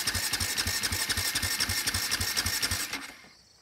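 A KTM 450 quad engine runs with a loud, steady, rapid putter for about three seconds, then cuts out abruptly and falls quiet.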